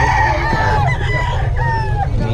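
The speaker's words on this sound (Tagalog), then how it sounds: "ang gaganda ng mga manok ni Boss Eric." Roosters crow in drawn-out, wavering calls over a steady low rumble, with a couple of overlapping crows close by.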